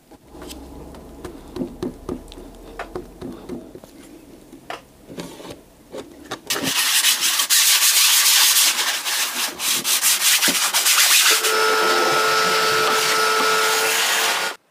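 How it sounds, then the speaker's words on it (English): Filler being sanded smooth on a custom carbon fibre enclosure: scattered soft rubbing strokes at first, then a loud, steady, continuous power-sander roar filling the second half, close up with no talking. "I've done another coat of filler, and it's all sanded now"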